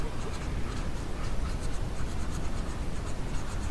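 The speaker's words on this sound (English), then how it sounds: "I should write that down for him." Pen scratching on paper as a quick note is jotted down, a close, continuous rustle of strokes with small irregular bursts and no speech.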